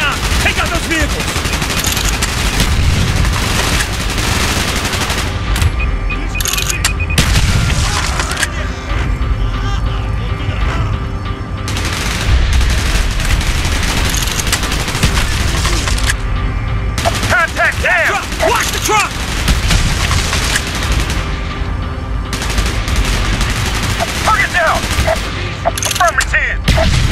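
Dense gunfire and explosions in the PC shooter Call of Duty: Black Ops: loud sustained automatic fire and booming blasts nearly continuous throughout, with brief dips, and soldiers' voices calling out beneath the combat.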